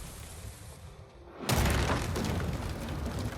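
Gunpowder barrels on a boat explode in a video game, with a sudden loud burst after a quieter lead-in, then a sustained roaring, crackling wash of noise.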